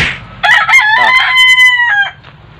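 A young gamecock stag, five to six months old, crows once in a loud, close, drawn-out call with a rising start and a tailing finish, alone without talk.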